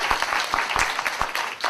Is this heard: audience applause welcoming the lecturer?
yes